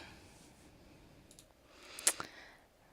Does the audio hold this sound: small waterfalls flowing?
no